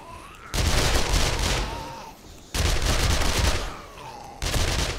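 Sustained bursts of automatic gunfire from shooting zombies in 7 Days To Die, three loud rapid volleys separated by short lulls, with no talking.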